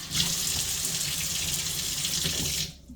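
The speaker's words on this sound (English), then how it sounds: "I'm going to go ahead and rinse this little oil cup up where I had oil in it." Tap water runs steadily into a sink while a small oil cup is rinsed, a close, even rushing splash lasting nearly three seconds before cutting off.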